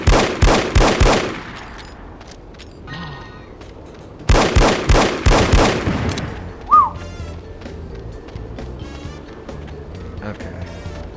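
Gunfire in the spy shooter The Operative: No One Lives Forever, two rapid bursts of loud automatic shots a few seconds apart, each trailing off into quieter game ambience with a brief sharp ricochet-like chirp afterward.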